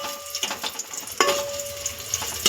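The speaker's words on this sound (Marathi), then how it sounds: "कांदा आपल्याला व्यवस्थित परतून घ्यायचा आहे" Sliced onion sautés in hot oil in a pot, a soft sizzle broken by three sharp metallic scrapes and clanks of the stirring spoon against the pot.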